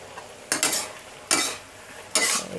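Red curry stir fry tossed in a hot pan, three distinct bursts of close scraping and sizzling stirring separated by quieter frying, with no talking.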